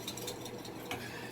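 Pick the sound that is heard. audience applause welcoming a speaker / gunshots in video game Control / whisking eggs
whisking eggs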